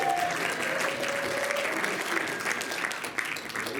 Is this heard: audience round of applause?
yes